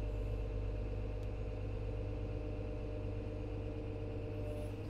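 Excavator diesel engine idling, a faint, steady low rumble with an even hum and no change in pace throughout.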